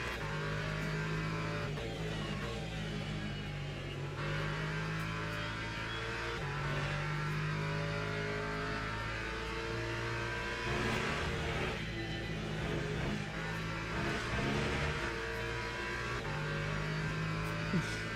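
GT3 race car engines at Le Mans in a racing video game, a steady droning engine tone that shifts pitch through gear changes, moderately quiet and continuous with no talk.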